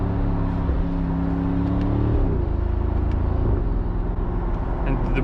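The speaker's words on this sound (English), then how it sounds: "And the blow off is so noticeable." A 2025 Mercedes-AMG SL 63 with carbon ceramic brakes revs its engine hard and steadily, the tone dropping mid-pass, with sharp turbo blow-off hisses breaking through the loud, continuous roar.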